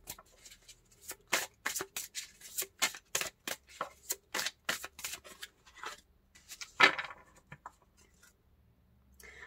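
A deck of tarot cards is shuffled in a quick run of crisp, rhythmic riffling bursts, close and clear, then a card is drawn with a louder snap before things go quiet.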